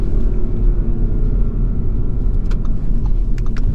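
A 2021 Audi S4 Premium Plus with the sport package accelerates hard, its engine a loud, steady low rumble heard from inside the cabin, with faint road noise and no speech.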